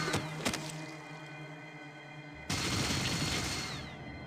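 Burst-fire weapons go off in the video game Fallout 2, with a couple of sharp shots followed by a louder rattling burst, game audio heard alone at low level.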